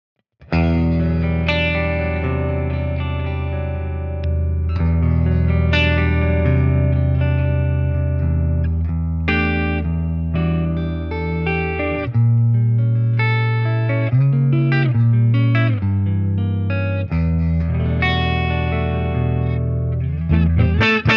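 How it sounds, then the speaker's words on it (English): Clean electric guitar, a Les Paul through a Fender Pano Verb tube amp, plays chords and ringing single notes continuously, with a warm, full tone and steady loudness throughout, no voices. "let's check a few tones with a Les Paul, more clean and edge"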